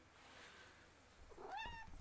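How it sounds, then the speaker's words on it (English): A cat gives a single short, rising meow near the end, preceded by quiet room noise. "Can you hear him meowing?"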